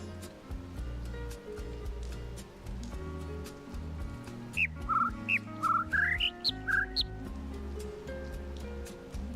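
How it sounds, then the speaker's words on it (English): A bird in The Witness gives a quick series of sharp, bright chirps, about eight clear notes in a row in the middle of the clip. They sound over soft ambient music and a low background hum. "Do the two bird chirps come through different ends?"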